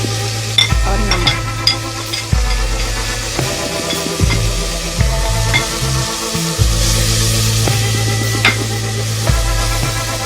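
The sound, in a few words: chickpeas with spices being fried and stirred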